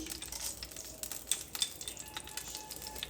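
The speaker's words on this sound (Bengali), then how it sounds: "এবার এখানে যে রাঁধুনি আর শুকনো লঙ্কাটা দিয়েছিলাম সেটা ফোড়নে দিয়ে দিচ্ছি আমি।" Radhuni seeds and dried red chilli sizzle in hot mustard oil for a tempering, a soft steady crackle with brief sharp pops and an occasional light scrape of a utensil in the pan, close and quiet.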